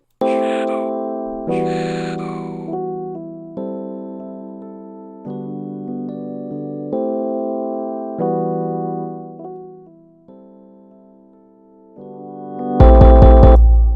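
A melodic synth intro plays sustained chords that swell and fade in volume, dipping quiet before a loud percussive hit kicks in at the end.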